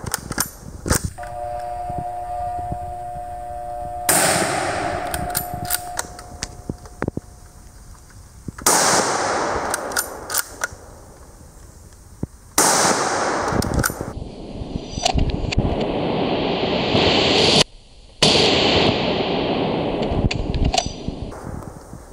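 Loud gunshots from a Yugoslavian M24/47 Mauser bolt-action rifle, several sharp cracks spaced seconds apart with reverberant tails and quieter handling noise between shots.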